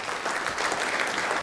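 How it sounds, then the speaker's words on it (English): Audience applause at the Embrace Awards 2013 ceremony as a presenter comes forward, a dense, even roar of many hands clapping together, loud and sustained throughout with no voices on top. "Big round of applause for him."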